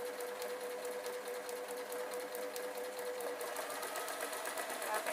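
A sewing machine stitching ribbons onto a handmade notice board runs continuously in a steady, fast mechanical whir and rattle, close and even throughout.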